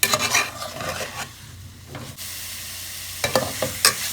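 Mutton in a ginger-garlic, mint and coriander masala is stirred in a pan: rough scraping strokes against the metal over a faint sizzle, coming in bursts with a quiet gap in the middle.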